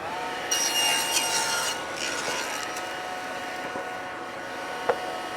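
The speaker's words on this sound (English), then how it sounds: "over here at the table saw, I am just going to take the board on my crosscut sled and I'm gonna cut off the 2 ends" A table saw with a crosscut sled trims the ends off a wooden cutting-board blank, a loud sustained whirring cut with a whining blade tone, then the motor runs on alone, ending with a short knock.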